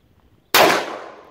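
A single .357 Magnum revolver shot, fired from an eight-shot RT608 at a target range, cracks out sharply and loud, then rings away in a long, fading tail. Nobody speaks over it.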